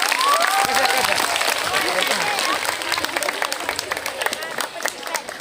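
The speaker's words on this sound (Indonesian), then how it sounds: "Kasih tepuk tangan." An audience at a madrasah Ramadan gathering claps for a student, dense applause that gradually thins into scattered claps, with voices talking over it.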